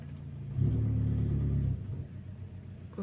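A car passing close by in a residential street near a house, a low engine rumble that swells suddenly, holds loud and near for about a second, then drops away, with no talking.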